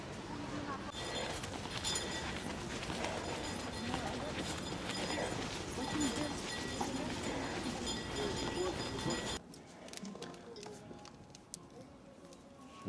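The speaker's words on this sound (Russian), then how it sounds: "Вот такие лошадки возят туристов" Horses pulling tourist carriages through a snowy Polish town, hooves clip-clopping steadily amid busy street noise, with the wider ambience dropping away abruptly near the end.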